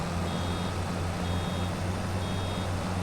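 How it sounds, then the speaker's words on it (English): A vehicle's reversing alarm in Farming Simulator 25 sounds three evenly spaced, thin beeps over a constant low engine drone, faint against the steady rumble. "That beeping is very, very annoying."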